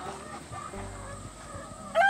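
Rooster in a backyard chicken flock, one short crowing burst at the end over faint background noise.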